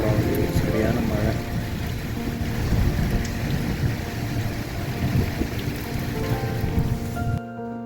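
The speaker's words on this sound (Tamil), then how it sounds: "சரியான மழை." Heavy rain pouring near the Palamathi Hills Murugan Temple in Vellore, a dense continuous hiss with drops pattering on surfaces and a low rumbling undertone, loud and close throughout, cutting off abruptly near the end.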